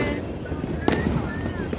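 New Year fireworks go off outdoors. One sharp pop stands out against a steady wash of wind and background noise.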